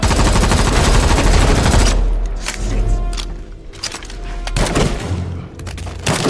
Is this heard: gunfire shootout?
yes